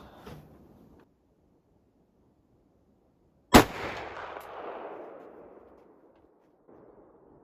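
A single loud .458 rifle shot cracks sharply, followed by a long rolling echo that fades over a few seconds, with faint handling noise before and after.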